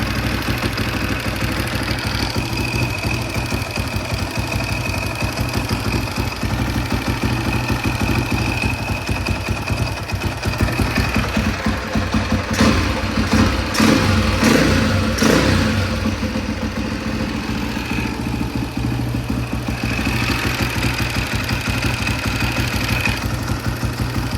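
A discontinued dirt bike engine runs at a steady idle throughout, rough and mid-pitched, with a brief burst of louder revving partway through before it settles back to idle; no one talks.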